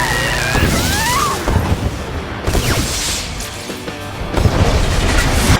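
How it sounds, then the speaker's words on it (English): A loud, rumbling film explosion from Scooby-Doo 2: Monsters Unleashed with crashing debris and booming impacts, fading briefly before another surge of blasting noise. "that was an expensive-looking explosion"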